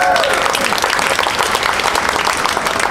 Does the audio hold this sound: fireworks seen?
no